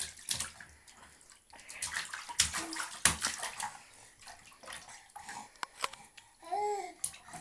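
A baby splashes and plays in bathtub water, with irregular near splashes and patters broken by short pauses and soft baby babbling.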